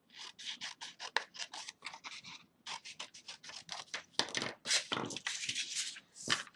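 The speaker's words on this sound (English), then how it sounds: "I'm just going to go ahead and cut this piece down" Scissors snip through a piece of paper for a handmade baseball birthday card, a quick run of close, crisp cuts with short pauses and faster bursts near the end.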